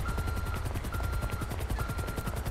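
An air ambulance helicopter in the video game GTA 5 gives fast, steady rotor thumping for the whole stretch, continuous and fairly close, with no talk.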